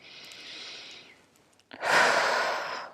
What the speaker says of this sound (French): On va refaire 3 grandes respirations.